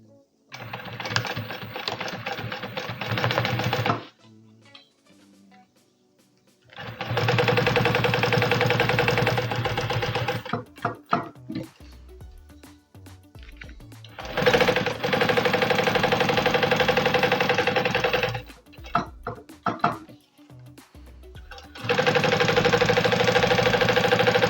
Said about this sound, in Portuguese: vou passar na volta inteira desse bolso uma costura distando 1 centímetro